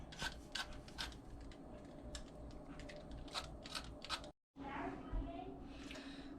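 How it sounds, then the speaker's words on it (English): Quick scraping strokes of a zester rasping the peel off a citrus fruit, close and fairly quiet, repeated in a loose rhythm with a brief pause near the end. "Just get the zest out."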